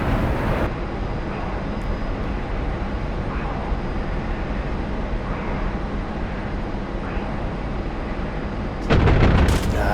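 Cannon fire from a MiG-15bis jet fighter in the DCS combat flight simulator, during a dogfight with an F/A-18C Hornet: a steady, dense roar runs throughout, and a louder rattling burst breaks out near the end.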